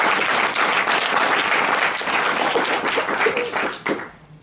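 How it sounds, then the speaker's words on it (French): Dense, loud applause from an audience at a business training session in Paris, a steady wash of many hands clapping that holds for several seconds before thinning and dropping away near the end. "So big applause again for them"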